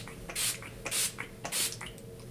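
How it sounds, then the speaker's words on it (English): Urban Decay All Nighter setting spray misted onto a face, three soft hissing spritzes spaced about half a second apart, close and fairly quiet against a faint room hum. "I'm using the Urban Decay All Nighter Setting Spray to do so"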